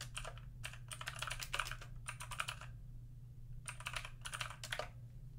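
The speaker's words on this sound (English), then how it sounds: "I'm just gonna type the text that I want printed out." Keys clatter on a computer keyboard in fast bursts of typing separated by short pauses, steady and close over a low constant hum in a quiet room.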